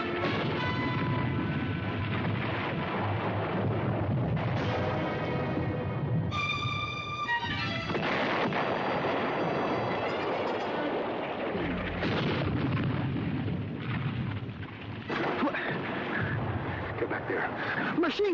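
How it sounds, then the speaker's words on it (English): Machine gun fire in a World War II combat drama, a dense rolling barrage of bursts and blasts running throughout, loud and close, with shouting voices and music over it. "Machine gun! Get back."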